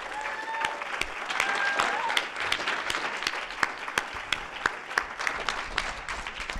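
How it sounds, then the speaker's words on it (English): Audience applause at a NASA Space Apps hackathon closing event in NYC, a dense wash of clapping with a few people talking over the start, thinning into scattered individual claps near the end. "can I have a round of applause for all this work?"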